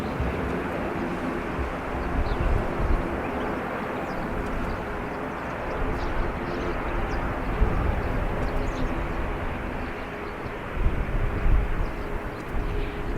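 Jet airliners taxiing at Dublin Airport give a steady, broad engine rumble and whine heard from a distance, with wind buffeting the microphone throughout and slight swells in loudness near the end.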